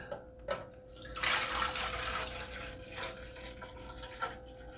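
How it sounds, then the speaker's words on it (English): A little water is poured into a 40-gallon breeder nano reef aquarium, a soft trickle and splash that swells for about a second, then fades into light drips, faint and close, with no voices. "Just pour a little bit of water in."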